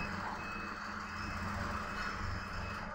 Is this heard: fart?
no